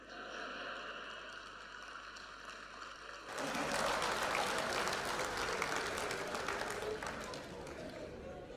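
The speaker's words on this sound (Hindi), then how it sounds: "एक सज्जन ताली बजा रहे हैं" An audience at a talk bursts into sustained applause, many hands clapping together in a dense, steady wash after a quieter opening stretch.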